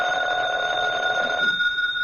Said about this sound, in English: The phone. I'm not going to answer.